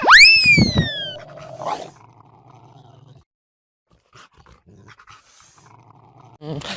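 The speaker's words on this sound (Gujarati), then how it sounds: "આ તો કૂતરો હે" A dog growls and whines, opening with a loud, rising strained cry before settling into low, quieter rumbling and breathy sounds, with a final burst near the end.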